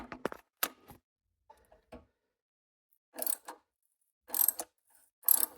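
A thread tap cuts a snowblower's stripped spark plug hole for a Helicoil insert, producing short bursts of close, ratcheting metal scrapes and ticks separated by quiet pauses.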